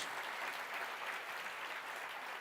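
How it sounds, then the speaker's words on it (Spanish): Inside a church, a congregation claps in a dense, steady wash of applause. It is fairly faint and even throughout the brief stretch, with no voices standing out. "Denle un aplauso a Dios"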